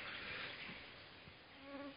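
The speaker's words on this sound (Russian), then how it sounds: "Комары одолевают." Mosquitoes whine around a rider on an overgrown forest trail along the high bank of the Desna river, a thin, steady insect buzz hovering close amid faint background noise.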